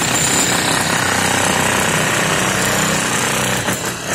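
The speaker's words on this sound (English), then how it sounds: "the chipping is going on with the help of demolition hammer" Demolition hammer chipping concrete off a column during structural repair, a loud, continuous rapid hammering that runs unbroken close by and eases slightly only at the very end.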